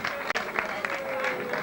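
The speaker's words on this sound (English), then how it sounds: "Give them a round of applause." Applause from a pub audience at a 1985 charity night, a dense wash of clapping with a chatty crowd murmur mixed in, steady and moderately loud for the short stretch.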